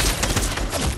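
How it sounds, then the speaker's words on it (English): Rapid gunfire in Fortnite, a dense burst of loud shots in quick succession filling a brief moment without pause. "I can't believe I missed that shot."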